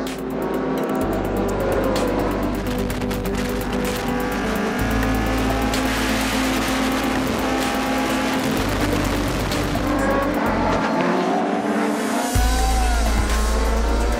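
Classic race cars roar around the Spa-Francorchamps circuit during the Spa-Classic, a loud continuous engine drone with shifting pitch as several cars pass and accelerate, with no speech.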